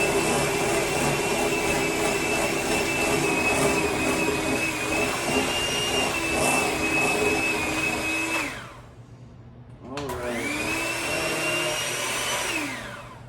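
Electric hand mixer beating sugar-free vanilla cake batter in a bowl, a loud steady motor whine that drops away briefly, then spins back up and continues.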